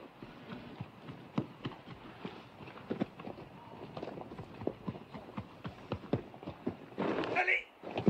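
Horse hooves clip-clop in a rhythmic series of sharp knocks in a Western film scene, moderately close, with a burst of noise near the end.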